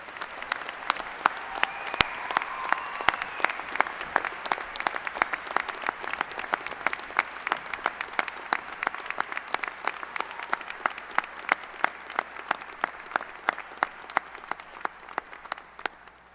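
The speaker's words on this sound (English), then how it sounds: "We have a round of applause for all of our master's recipients." Sustained applause from a large crowd at a December 2014 University of Iowa Graduate College commencement for master's degree recipients, many hands clapping steadily and evenly throughout, slightly distant in a big hall and gradually tapering toward the end.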